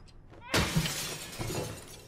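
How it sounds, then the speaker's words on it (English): Glass or plexiglass panel smashed with a hammer in Little Nightmares II, a single loud, sudden crash after a quiet start, followed by scattering shards and a fading rattle. "We can smash it open with a hammer. It's just like some kind of glass or plexi."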